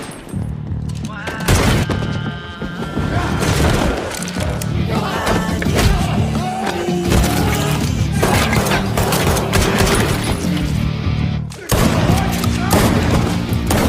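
A gangster gunfight in an action film, heavy volleys of gunshots with thuds and impacts packed densely across the scene, loud, with voices partly under the shooting.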